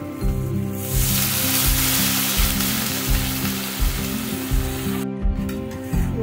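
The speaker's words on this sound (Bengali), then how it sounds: "এবারে আমি দিয়ে দেব করে রাখা গরম জল" Hot water poured into a pan of frying pomfret curry masala: loud, continuous sizzling and bubbling that holds steady for the whole stretch, with rhythmic stirring or scraping pulses underneath and no voices.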